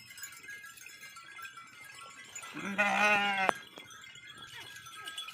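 Sheep bleat in a village flock near the Indus River, with low murmuring and ambient noise giving way to one clear, wavering bleat close by at moderate loudness.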